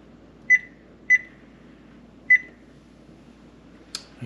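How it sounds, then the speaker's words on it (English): Oven timer being set for 25 minutes while a breakfast casserole goes in, three short electronic beeps spaced apart, then a brief knock at the end, in a quiet kitchen. "And I'm going to set the timer for 25 minutes."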